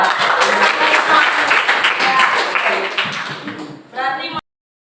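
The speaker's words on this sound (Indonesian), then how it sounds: "berikan tepuk tangan" Classroom applause as students clap together in a dense, lively burst lasting several seconds before it stops abruptly and a voice speaks briefly.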